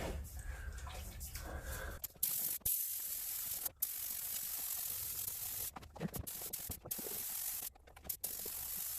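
Spray-on bed liner being sprayed inside the engine compartment of a General Lee car under restoration, a steady hissing spray broken by several short pauses and bursts, close and fairly loud with no talking.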